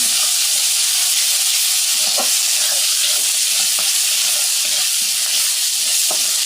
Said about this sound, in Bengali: এইটা আমি মশলাটা কষাই নিচ্ছি, কষানোর পরে লাউ দিয়ে আবার কষাবো।